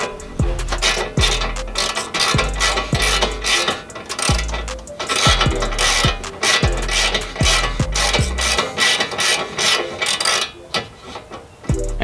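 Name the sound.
ratchet tightening castle nut on Lexus IS300 upper ball joint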